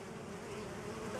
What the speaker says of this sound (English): So all these bees coming in